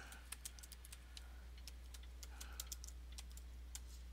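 Quick, irregular clicks of keys on a computer keyboard as a title is typed, close but quiet over a low steady hum, with no talking.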